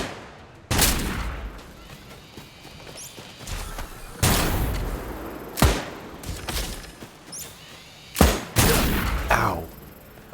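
Sniper turret in a survival video game firing heavy, booming shots: four loud blasts at irregular intervals, each with a sharp crack and a short rumbling tail, separated by quieter game ambience.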